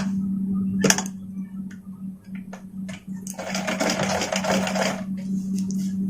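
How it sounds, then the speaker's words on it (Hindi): Sewing machine stitching gathers on a petticoat, a steady close mechanical hum with rapid ticking needle strokes, then a louder burst of fast stitching near the end, with no talking. "जैसे चाप सिलाई मारते हैं उसी तरह से इस पर चून पर मारते आइए"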